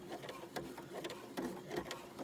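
A sewing machine stitches fabric in a quiet room, its soft mechanical clatter pulsing in short, uneven bursts close by.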